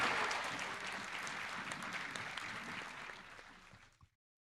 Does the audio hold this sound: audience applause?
yes